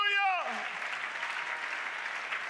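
A church congregation cheers and acclaims the Lord in a sustained, loud crowd roar with clapping. A voice trails off at the start, and the broadband din runs steadily to the end.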